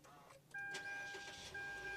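Mitsubishi Xforce car engine starting: a quiet interior, then a sudden catch as the engine fires and settles into a smooth idle, with a faint electronic chime tone carrying over it.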